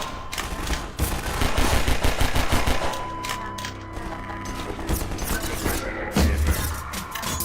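Pistol shots ring out in the video game Half-Life 2, a run of sharp, close gunshots mixed with heavier bursts and clattering impacts over a busy game soundtrack.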